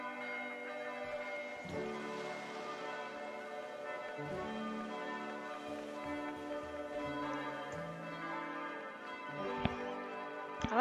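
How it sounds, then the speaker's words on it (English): Wedding church bells ring in the video game Old Man's Journey, a continuous peal of overlapping bell tones held at a gentle, distant volume for about eleven seconds. "Oh, wedding bells?"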